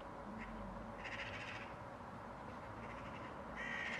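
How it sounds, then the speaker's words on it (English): Group of magpies chattering on a rainy but sunny day, several harsh rattling calls at moderate distance over a steady hiss of rain. "There's a whole load of magpies there."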